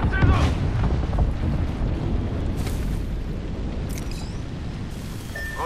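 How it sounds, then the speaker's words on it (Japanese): A heavy boom opens a blast in the battle royale game Apex Legends, followed by a long, rumbling low roar that slowly fades, with scattered sharper in-game effects on top. "爆発するぞ。"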